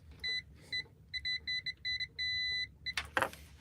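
Original 1989 Nintendo Game Boys beep in a quiet room, giving a string of short electronic tones in an uneven rhythm. One longer held tone sounds near the end, then a brief rustling clatter.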